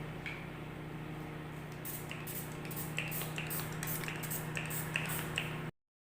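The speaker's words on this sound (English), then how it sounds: "let us now spray with some alcohol into our silicone mold" Several short, soft bursts of alcohol sprayed into a silicone mold in quick succession over a low steady hum, close by and fairly quiet.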